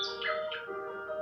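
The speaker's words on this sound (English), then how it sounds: "You can hear the birds singing sweet songs." A bird sings a short, bright series of chirping, whistled notes, clear and fairly close with nothing else around it.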